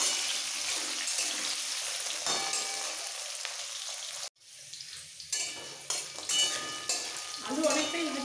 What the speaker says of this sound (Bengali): আলু লাল করে একটু ভেজে নেওয়ার পর বাকি সবজি দেবো